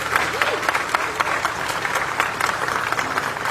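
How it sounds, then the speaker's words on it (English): Sustained applause from an audience honoring a retiring Newark police chief at his farewell ceremony, dense steady clapping throughout with a few faint voices mixed in. "How about one more round of applause for our chief?"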